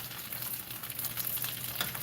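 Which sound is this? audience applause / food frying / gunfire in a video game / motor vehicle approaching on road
food frying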